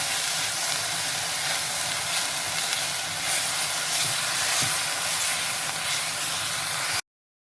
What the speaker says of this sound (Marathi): कांद्याची पेस्ट आपल्याला जी व्यवस्थित परतून घ्यायची आहे कारण मी कच्च्या कांद्याची पेस्ट केलेली आहे